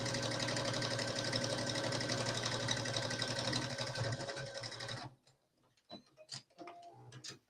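Close, loud sewing machine top stitching a skirt pocket runs continuously for about five seconds, then stops, leaving scattered small clicks and handling sounds.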